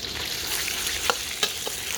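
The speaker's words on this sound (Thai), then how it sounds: "ทอดหมูเลยครับ" Steady, loud sizzling of pork belly frying in reused hot oil, with a few scraping stirs in the pan and no voices.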